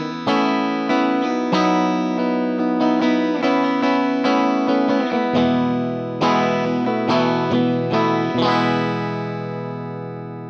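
Electric guitar run through a Keeley D&M Drive overdrive pedal, played as a lead solo with clear sustained notes and bends and a crunchy, warm tube-like drive. It sounds close and loud, with no talking.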